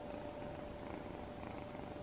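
A cat purrs softly and continuously up close, a low rhythmic rumble with no other sounds.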